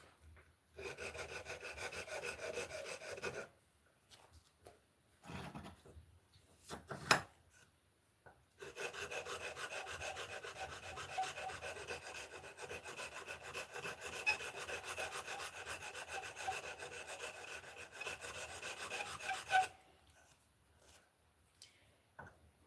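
Long stretches of steady rasping friction from hand-sanding wood with 180-grit sandpaper after 120-grit, pausing briefly between passes, close and fairly quiet.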